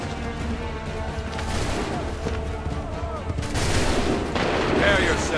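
Musket volleys from a firing squad in Assassin's Creed III crackle in dense bursts, with a louder, fuller round of shots near the end over a steady battlefield din.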